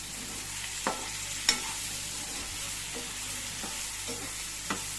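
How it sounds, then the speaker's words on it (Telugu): Okra frying in oil in a pan, a soft steady sizzle broken by a few sharp clinks and scrapes of a spoon as it is stirred now and then, with nobody talking. "ఈ నూనెలోనే ఫ్రై చేసుకోవాలండి"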